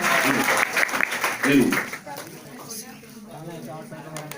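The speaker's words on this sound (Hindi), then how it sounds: "चलिए एक बार जोरदार ताली हो जाए इनकी तरफ से।" Students in a chemistry classroom break into a burst of clapping that blends with chatter and cheering voices, then fades to scattered claps beneath continued talk.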